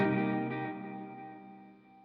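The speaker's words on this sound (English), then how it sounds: "reverb volume and dwell, like the length of the tail" Reverb with a long dwell tail from a Zodiak tape delay plugin by Yonac, a sustained tonal chord that rings out and decays smoothly over two seconds.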